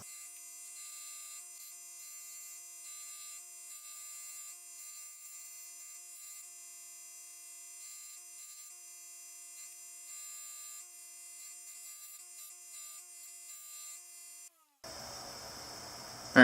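A buffing wheel loaded with rough compound works the rusty side of a knife blade, giving a steady, fairly quiet whine that runs for about fifteen seconds before stopping abruptly, followed by a brief burst of different noise.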